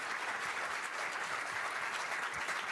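A festival crowd at a Cannes master class gives film critic Kenneth Turan warm, dense, continuous applause, a steady wash of clapping heard from some distance.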